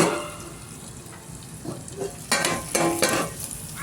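Carrot and other vegetables are stirred and fried in a pan, with a soft sizzle underneath and a few sharper scraping, clattering stirs toward the end, fairly quiet and close with no talking.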